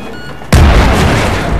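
A C4 charge detonates in a video game, a sudden loud boom after a quiet moment, followed by a sustained roaring rumble.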